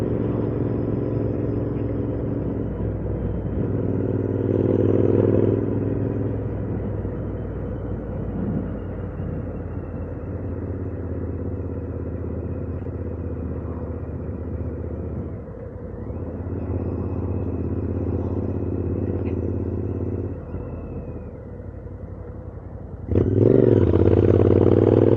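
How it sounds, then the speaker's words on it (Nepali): Royal Enfield Interceptor 650 motorcycle engine during a ride, a steady loud rumble with wind noise, the pitch rising and falling slightly as it runs, and a louder burst near the end. "बाइकको आवाज चाहिँ साह्रै मनपर्छ मलाई"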